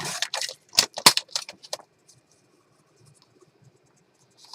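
Paper is trimmed for a handmade journal cover: a quick cluster of crisp snips and rustling cuts close by, then near silence with a few faint handling noises.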